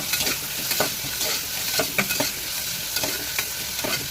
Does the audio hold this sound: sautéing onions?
yes